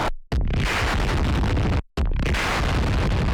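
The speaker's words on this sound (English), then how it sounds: "There was some kind of feedback from the bass that ended up extending the note and making this absolutely insane sound." A bass note stretched by feedback from OTT applied twice erupts as a harsh, dense, explosive roar, cut by a brief gap and then slamming back in at full loudness.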